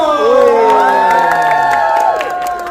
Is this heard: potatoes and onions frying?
no